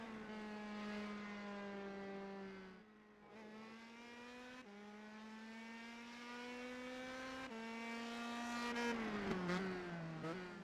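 A race car engine drones steadily as it heads out onto the track for qualifying on a road course, holding its pitch before stepping up with each gear change, loud and continuous with no talk.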